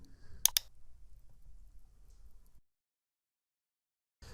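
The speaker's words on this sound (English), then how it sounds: "now I am going to click on Login." A computer mouse gives two quick, crisp clicks close together, followed by a low hum and then near silence.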